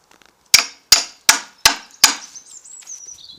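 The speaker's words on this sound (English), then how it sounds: "Just want to put your chisel in the gap." Chisel struck with a hammer to drive it between wooden pallet slats: five sharp, loud, evenly spaced blows, each ringing briefly, followed by faint squeaks and scrapes.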